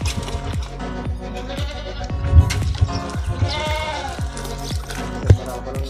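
Several goats bleat on a farm, loud nearby cries overlapping with quieter ones, mixed with wet rustling and shuffling sounds and no clear talk.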